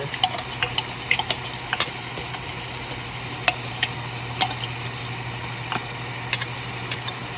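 Minced garlic and onions frying in a pan, a steady close sizzle with irregular sharp ticks and clicks of stirring scattered through it.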